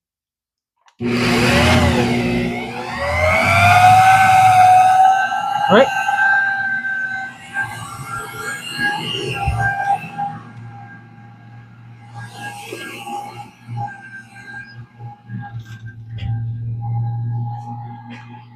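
Loud dust collector roar starts suddenly, a high whining hum over a low drone, later easing to a steadier running hum with brief voice nearby.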